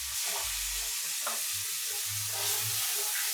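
Onions fry and sizzle in a pan as they are stirred, a steady close hiss with soft intermittent scraping and shuffling bumps from the stirring.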